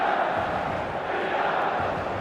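A stadium crowd in eFootball roars in a loud, steady, continuous wall of chanting and cheering, heard alone throughout.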